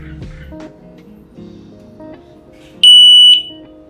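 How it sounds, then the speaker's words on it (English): A Veison DX19 V2 motorcycle disc lock alarm lets out one loud, steady high-pitched electronic beep lasting about half a second. Before it there are quieter low rustling and handling sounds. "So this loud beep indicates that the alarm is on right now."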